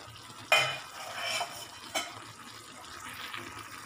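Tomatoes simmering and softening in a pan for tomato chutney, stirred with a utensil: soft bubbling and light sizzle with a couple of sharp scraping strokes against the pan, fairly quiet and close, no talking.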